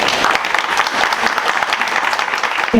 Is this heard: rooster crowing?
no